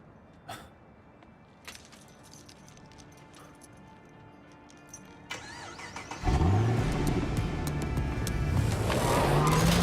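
A car engine cranks and catches in the Quantum Break video game, rising abruptly from quiet background noise into a loud, steady running drone with a faint revving pitch sweep.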